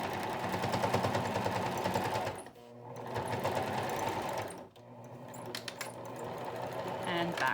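A sewing machine stitches a fabric COVID-19 mask, running in steady loud bursts with short back-stitch pauses in between, close up and without talk.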